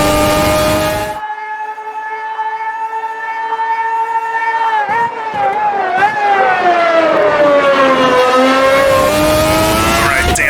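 A Formula 1 race car in the Automobilista 2 racing game screams as it accelerates, its loud, high engine pitch climbing through gear changes, with brief dips in between, under someone talking throughout.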